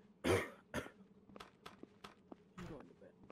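Coughing outdoors at night on the plains, two harsh coughs close together at the start, then scattered faint clicks and a rougher cough near the end.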